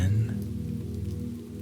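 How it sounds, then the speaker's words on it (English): Gentle rain patters steadily on a surface, a soft continuous wash with a low rumble underneath, even and unbroken throughout. "Left in gentle rain, she kept breathing, slow and steady."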